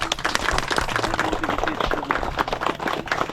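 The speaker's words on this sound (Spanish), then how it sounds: "Vamos a darle un aplauso" A crowd claps and applauds at the Ik Kil cenote in Yucatan, Mexico, dense rapid clapping carrying on throughout with voices mixed in.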